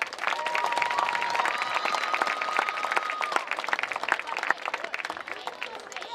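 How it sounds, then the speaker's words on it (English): Crowd applause at a high school homecoming ceremony during a football game between Gordon-Rushville and Bennett County, steady clapping held for about six seconds under a faint sustained tone, with background voices mixed in. "Let's give all these young ladies another round of applause to recognize their many accomplishments."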